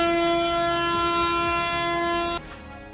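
A train horn blares steadily and loudly for over two seconds at a railroad crossing over a rumbling rail background, then cuts off abruptly, leaving a quieter rumble.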